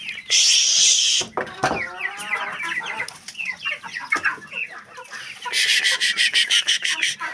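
Chickens and newly arrived chicks cluck and chirp in a backyard coop, with a loud squawk at the start, busy overlapping clucks, then a rapid, pulsing burst of calls near the end.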